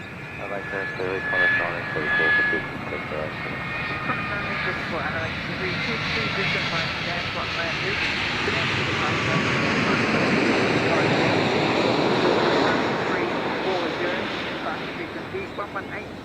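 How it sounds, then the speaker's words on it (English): A Boeing 787-10 jet airliner lands at Adelaide Airport with a broad, steady jet roar that swells and holds as it touches down and rolls out. The sound carries from a moderate distance, and a voice talks over it at times. "787-10 touching down here live at Adelaide Airport"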